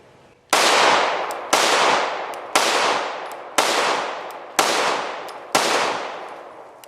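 Six loud, sharp shots from a Shadow Systems CR920P 9mm micro pistol with a compensator, fired about one second apart, each followed by a long, fading echo.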